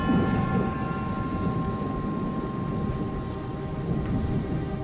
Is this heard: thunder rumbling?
yes